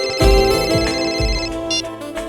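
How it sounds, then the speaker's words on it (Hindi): A phone ringtone plays loudly over rhythmic music, a bright electronic melody repeating in short phrases. "तुम्हारा फोन रिंग हो।"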